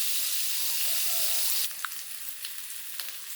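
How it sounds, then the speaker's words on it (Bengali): Potatoes frying in a pan for aloo dum, giving a bright, steady hiss that drops in level partway through, with a few soft clinks and stirring sounds after. "আমি আলুটা ভালো করে একটু ভেজে নেব।"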